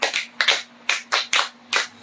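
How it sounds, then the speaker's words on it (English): Sparse, loud claps from a small group at a children's talk show, about seven separate claps in an uneven rhythm, close by, with no voices. "A big round of applause for Kenamidara."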